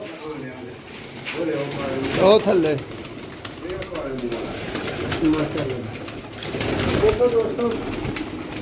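Teddy pigeons coo in low, rolling bursts a few times, close by, while someone talks over them throughout.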